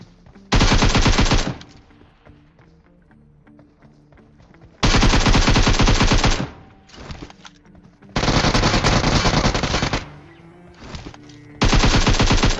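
Gunfire in the mobile game PUBG Mobile, four long bursts of rapid automatic fire separated by quieter gaps with a couple of shorter volleys, loud and close.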